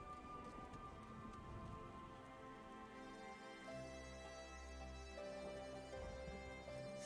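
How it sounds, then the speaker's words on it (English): Steady rain in Final Fantasy XIV patters softly over a background of sustained musical tones, faint and continuous throughout. "Oh, it's raining."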